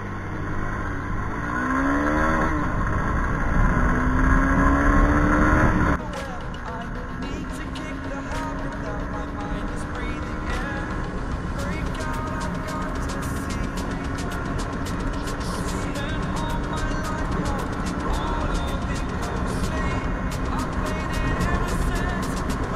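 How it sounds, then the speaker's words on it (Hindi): A Honda Hornet 2.0 BS6 motorcycle under way on the road, its engine note climbing as it accelerates, with a loud rush of wind over the whole ride and a steady motor drone. "तो अभी हम थोड़ा सा बाइक को भगाते हैं"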